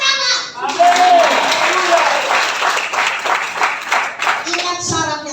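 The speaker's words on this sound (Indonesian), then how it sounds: "Tepuk tangan." A church congregation claps hands during a sermon, a loud burst of rhythmic clapping that swells and then fades, with voices and a child's speech heard around it.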